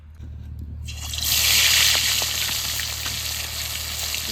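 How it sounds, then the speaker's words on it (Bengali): Fish dropped into hot mustard oil on a low flame, the sizzle surging sharply after a brief quiet start, then settling into a steady crackle over a low background hum. "এবার সর্ষের তেল দিয়ে মাছ ভেজে নেব আস্তে আস্তে জাল দেবো"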